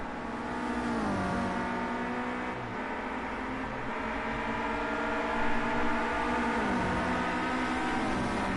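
Renault Clio Cup race cars lap the Red Bull Ring, engines droning loud and steady with gear changes and pitch sweeps as several cars pass in close succession, no voices over them.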